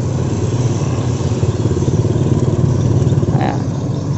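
A motorcycle engine rumbles loud and close on a road near a collapsed bridge, a steady sputtering drone with rattling over its full length.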